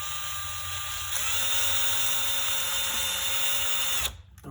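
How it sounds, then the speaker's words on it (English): Power drill with a small bit whines steadily and loudly at close range while drilling out a broken clip on a vinyl plantation louver shutter, then stops abruptly near the end. "So I'm going to drill it out."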